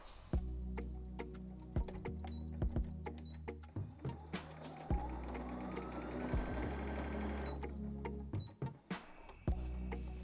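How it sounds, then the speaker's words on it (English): A sewing machine fitted with a denim needle sews straight stitches through doubled-over denim fabric, a steady close mechanical hum with rapid ticking needle strikes and occasional clicks. "I'm going to pop the stitch back to a standard straight stitch, and I've put a denim needle on the machine"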